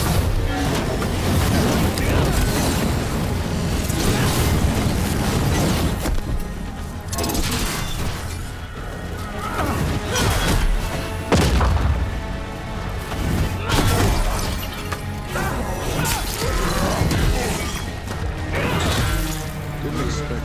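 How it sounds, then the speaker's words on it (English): Mortar explosions in Dragon Age: The Veilguard, repeated booming impacts and crashes amid a dense battle soundscape of clatter and debris, with voices shouting over the fighting. "They've got mortars!"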